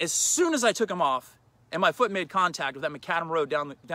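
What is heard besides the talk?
No everyday noises stand out.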